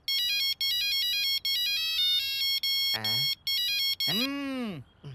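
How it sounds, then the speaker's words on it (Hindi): A mobile phone ringtone plays a loud, repeating electronic melody in several bursts, broken by short gaps and two swooping sweeps near the end, set in a comedy scene. "हमें देख के फोन कान पर लगाते हो और फोन भी तभी बजता है।"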